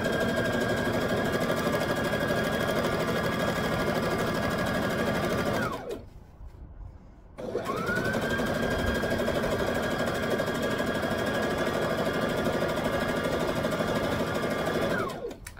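A sewing machine runs steadily, stitching slowly over a seam on a wrap skirt, with a brief pause near the middle before the loud, even whirr resumes until the end.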